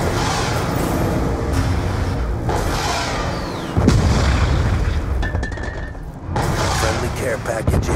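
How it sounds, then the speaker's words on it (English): Hellstorm missile strikes explode in Call of Duty Black Ops II multiplayer: heavy booming blasts and rumbling bursts roll on one after another, loud and close, with a brief sharper report midway. "Friendly Hellstorm missile inbound."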